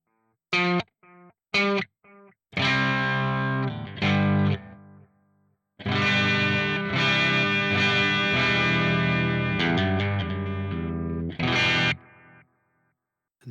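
Electric guitar played through a Soldano SLO 100 Crunch amp model on an Ampero 2 Stomp processor, with a few short stabbed chords and then sustained, distorted crunch chords ringing loud, with a light delay, and no talking.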